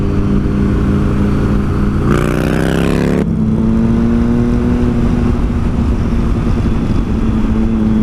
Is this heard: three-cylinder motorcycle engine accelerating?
yes